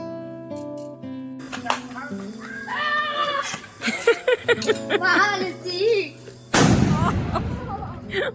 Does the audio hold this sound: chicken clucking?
no